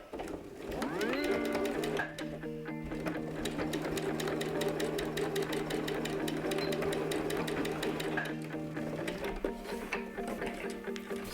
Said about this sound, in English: we're sewing right along the top of